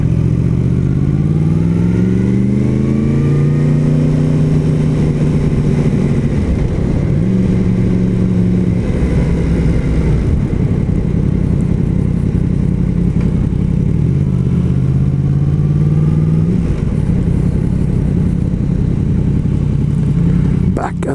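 A Yamaha MT-10 motorcycle engine revs as it is ridden, its loud note climbing and dropping through repeated accelerations and gear changes, with a rider talking over the engine noise.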